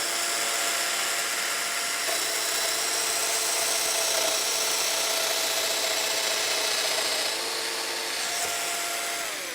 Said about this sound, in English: you can see that long cutter. It wiggles back and forth to create that mortise.